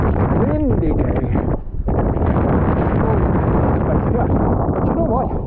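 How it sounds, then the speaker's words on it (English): Cold wind on a bleak day roars loudly across the microphone in continuous heavy buffeting, easing briefly for a moment before surging back. "windy day."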